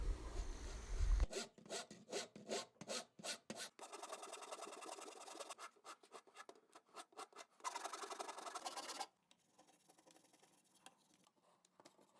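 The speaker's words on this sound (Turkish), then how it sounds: "Şimdi törpüyle ve zımparayla arabamızı düzeltiyoruz." Rough rhythmic rasping strokes of a file and sandpaper on a small Ford Mustang–shaped USB flash drive, close up, in uneven bursts that thin to lighter scraping near the end.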